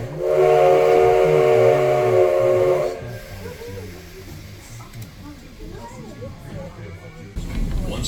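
The 1880 steam train in South Dakota pulls out of the station with a loud, sustained steam whistle blast followed by hissing steam and rolling train noise while a voice talks.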